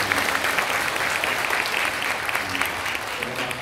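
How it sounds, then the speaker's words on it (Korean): Worshippers at a New Year's Day church service give sustained applause of thanks, a thick, continuous patter of many hands with faint voices mixed underneath. "감사 박수예요."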